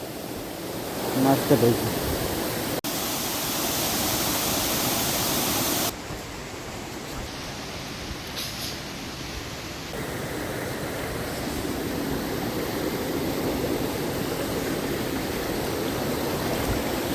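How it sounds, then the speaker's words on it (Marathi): Rain-fed waterfalls and runoff in rural farm country during rice-planting season rush in a loud, steady broadband roar that persists throughout, shifting in tone as the view changes, with a brief spoken word near the start. "जिथे पाहिलं तिथे वॉटरफॉल, असे धबधबे तयार होतात"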